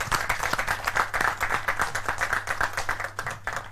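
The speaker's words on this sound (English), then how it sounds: "I think he deserves a round of applause." Applause from the audience at an official education launch event in Zimbabwe, a steady patter of many hands clapping close by for a few seconds without speech.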